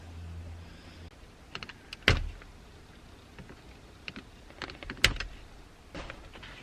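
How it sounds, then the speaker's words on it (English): Zip tie being snipped off a car e-brake handle during a carbon fiber trim install, heard as a few sharp clicks and snaps with two louder cuts, close by and quiet, amid light handling noise. "there's a zip tie holding the handle in. So all we need to do is cut this off"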